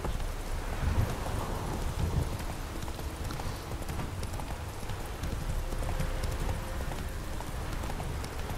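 Roach the horse galloping in The Witcher 3, a steady rapid clip-clop of hooves over wind noise, moderately near, with faint voices now and then.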